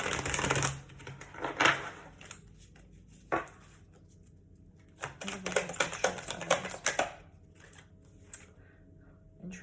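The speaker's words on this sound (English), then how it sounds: "I'm gonna shuffle one more time for pile 3" Tarot cards being shuffled by hand, quiet crisp riffling bursts with pauses between them, close and fairly soft with no talking.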